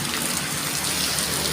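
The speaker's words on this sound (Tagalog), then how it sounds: "Ulan, may bagyo na rito." Heavy storm rain pours down steadily as a dense, continuous hiss, loud and close throughout with no talking.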